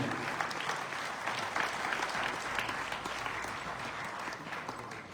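An assembled crowd at a religious nirvana festival evening gathering claps steadily and loudly, a dense, unbroken wall of applause holding at the same level from start to finish.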